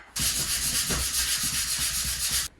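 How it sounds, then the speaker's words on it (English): Steady rhythmic sanding of wood, a loud raspy scraping with quick regular back-and-forth strokes, starting and stopping abruptly after a couple of seconds. "all the sanding is done"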